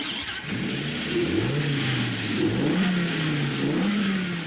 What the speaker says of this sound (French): le moteur hybride à air comprimé nouvelle génération.